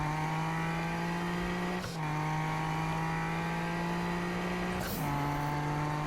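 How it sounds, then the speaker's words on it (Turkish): A race car engine in Need for Speed on PS4 drones at a steady high pitch, dipping briefly twice as if shifting gears, loud and continuous without any voices. "bu arabanın sesi değişmiş ha"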